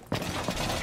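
A magazine swap in Rainbow Six Siege: a sharp mechanical click of the reload, followed by continuous gritty game noise.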